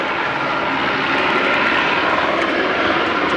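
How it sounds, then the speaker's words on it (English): A light plane flies low over a house, its engine a loud, continuous droning roar that holds steady throughout without any voices. "a light plane and a helicopter buzz the house at low altitude"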